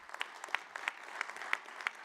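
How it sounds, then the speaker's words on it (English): A smaller scattered round of clapping from the audience at a city's annual address, fairly quiet, with distinct individual claps over a soft patter for about two seconds. "that's worthy of applause"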